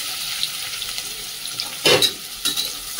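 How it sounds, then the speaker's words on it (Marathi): Onion drops into hot oil and fries, a close sizzle that bursts louder in a couple of surges as the pieces are stirred. A low bubbling runs underneath and nobody speaks. "तेल गरम झालेलं आहे म्हणजे कांदा टाकूया सर्वात पहिलं।"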